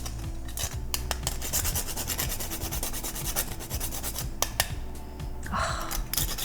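Whole nutmeg scraped against a grater over dry muffin ingredients, a steady run of dry rasping strokes close to the mic with no talking.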